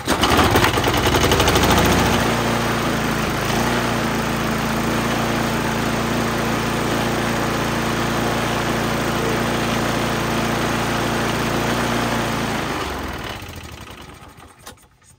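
Masport lawn mower, a long-stored shed project with a rough throttle cable, fires up and runs loud and steady with a strong low engine drone, then is shut off and dies away near the end.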